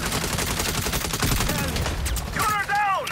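Gunfire in the video game Saints Row, a dense continuous fusillade of rapid shots filling the scene, loud and close, with a whooshing swell near the end.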